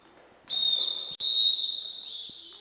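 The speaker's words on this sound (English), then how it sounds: "And a whistle's blown." A referee's whistle is blown at a girls' basketball game: one long, shrill, piercing blast with a split-second break in the middle, loud and close, fading at the end.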